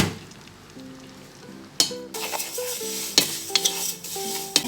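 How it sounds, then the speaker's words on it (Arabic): Vermicelli sizzles and fries in a pot of oil while a spoon stirs it, with close metallic clinks and scrapes against the pot over a steady crackle, for the Egyptian koshari dish. "هحط الشعريه كده في الحله عشان احمرها"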